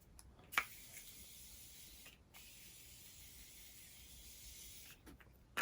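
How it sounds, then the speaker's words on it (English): Morphe setting spray is misted onto a face in a few quick, soft hissing bursts, close and quiet, spaced a couple of seconds apart. "I'm going to go ahead and set my face with the Morphe setting spray."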